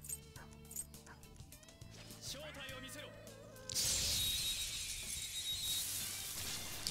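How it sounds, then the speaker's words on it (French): Dogs bark and whimper in the video game Persona 5 Royal, short yelping calls over game sound and voices, followed by a sudden loud crash like shattering glass and a sustained noisy wash. "Pourquoi il faut toujours que les chiens soient méchants dans les jeux vidéo?"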